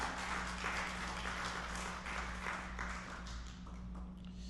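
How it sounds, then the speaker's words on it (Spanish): A church congregation applauds in a steady, continuous wash of clapping that fills a reverberant hall, with a low electrical hum running underneath and no distinct voices. "denle un aplauso al Señor"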